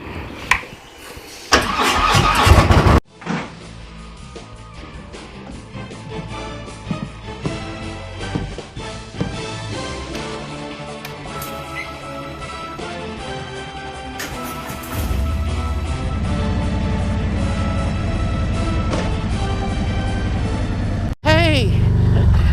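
A Harley motorcycle engine cranks and catches, then settles into a loud, steady rumbling idle close by, with music playing throughout and a sharp jump in level near the end.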